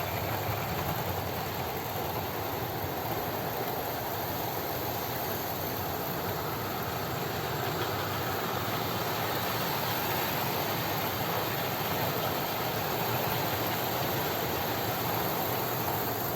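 A model British Rail Standard Class 2 locomotive runs steadily at scale speed while pulling a long train of trucks, giving off a continuous broadband whirring rumble with no clear beats, even and unbroken from start to finish.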